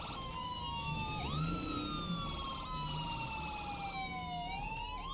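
Wailing ambulance siren in the zombie survival video game State of Decay 2, rising and falling in long sweeping tones with layered overlapping wails, loud and continuous over a rumbling game background with no speech.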